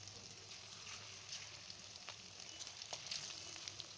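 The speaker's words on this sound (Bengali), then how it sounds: "তেল গরম হতেই আমি এখানে সেই চিকেনগুলোকে ভালো মতো করে ভেজে নিতে হবে।" Marinated chicken pieces for chilli chicken fry in hot oil, a faint, steady sizzle with soft crackles and a few small pops, heard close and alone.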